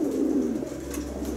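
Racing pigeons kept in a loft, widowed and separated by sex, give a brief low cooing murmur close by over a steady hum.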